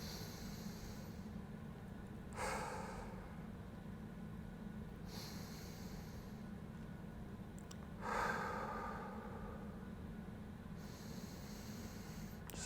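Slow, deep breaths during a hip external rotation stretch, with quiet airy inhales and exhales repeating every few seconds, faint and close over a low background hum.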